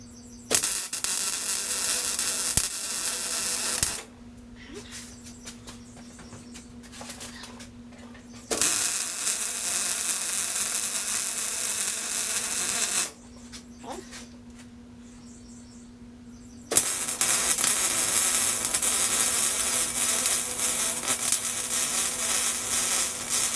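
Tack welds on a scrap metal shop cart being built: two bursts of bright, crackling arc hiss separated by quieter gaps, then a third longer burst, close and loud, with a faint steady hum beneath.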